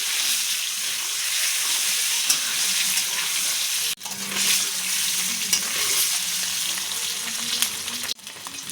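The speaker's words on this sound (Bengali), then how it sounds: "দিয়ে ডিমটা সুন্দর করে লাল লাল করে ভাজা করে নেব।" An egg seasoned with turmeric and salt fries in a pan, a steady close sizzle of hot oil running throughout with a couple of brief breaks where the pan is moved.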